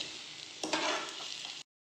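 Paneer cubes fry in hot oil for a homemade paneer manchurian, giving a steady close sizzle with stirring noise that swells briefly midway, then cuts off abruptly.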